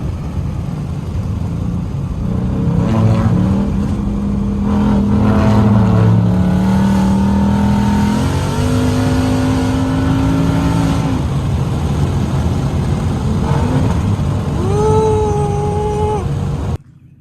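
Ford Mustang with a louder aftermarket exhaust revving loud and close, steady rumbling idle broken by rising and falling throttle blips, with some whistling tonal sweeps late on.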